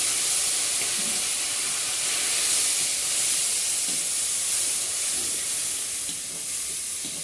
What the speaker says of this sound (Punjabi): ਹੁਣ ਆਪਾਂ ਇਹਦੇ ਵਿੱਚ ਸਭ ਤੋਂ ਪਹਿਲਾਂ ਪਾਵਾਂਗੇ ਆਪਣਾ ਜੀਰਾ ਥੋੜਾ ਜਿਹਾ ਜੀਰਾ ਪਾਉਂਦੇ ਸਾਰ ਨਾਲ ਹੀ ਆਪਣਾ ਮਸਾਲਾ ਪਾਵਾਂਗੇ